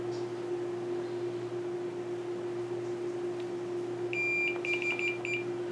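Multimeter continuity tester beeping while probing the PCB of a very dirty Cherry keyboard under restoration: a quick run of short, clear beeps near the end over a steady low electrical hum.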